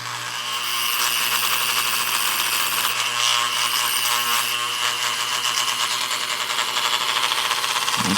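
A wire wheel spins steadily against the rusty steel blade of a Ka-Bar Becker BK-16 knife. It makes a loud, continuous bright whirring scrape with a constant motor hum underneath.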